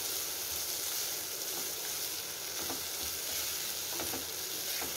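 Ginger garlic paste and cheese sizzle steadily in a hot pan, a dense continuous frying hiss with faint stirring scrapes, close and alone without talk.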